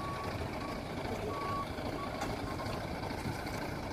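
A Pertamina LPG truck reverses on a muddy, rain-ruined road, its backup alarm beeping in a steady repeating pattern over a continuous low engine rumble, with no talking.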